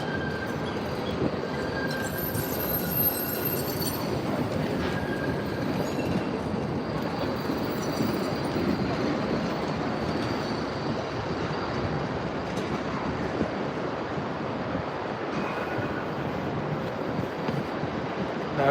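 Melbourne trams roll past near Southern Cross Station on Spencer Street, a steady rumble of wheels on rails with faint squeals, heard up close and continuous, with some wind noise over the microphone and no talking.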